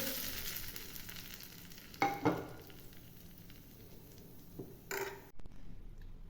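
A hot curry leaf tempering sizzles after being poured into peanut chutney, giving a steady close frying hiss with a couple of sharper spits and stirring sounds before it cuts off.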